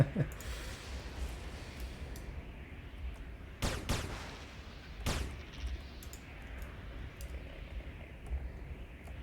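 Pistols in Anarchy Online fire two sharp, loud shots a couple of seconds apart over a low, steady game background, with no talk during the shots.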